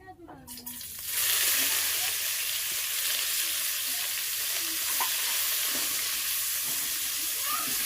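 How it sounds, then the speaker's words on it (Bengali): Chopped onions hit hot spiced oil for masala chicken and a loud, dense sizzle bursts up, then holds as a steady hiss over medium flame, close and unbroken, with no speech. "এবার আমি এতে দিয়ে দেব পেঁয়াজ কুচি"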